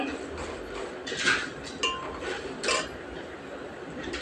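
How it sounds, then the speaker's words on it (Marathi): A spoon clinks and scrapes against a pot while chopped onion with garlic and salt is stirred as it fries in oil, giving a few sharp metallic knocks over a low background. "कांदा असा लालसर रंग येईपर्यंत तुम्हाला हलवून घ्यायचा आहे"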